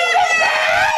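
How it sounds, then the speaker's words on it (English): Toddlers at a daycare, frightened by workers in a scream mask, shriek and cry in terror: a loud, sustained, high-pitched wail with no pause. "Daycare workers scaring toddlers with a scream mask, the little ones shrieking and crying in utter terror."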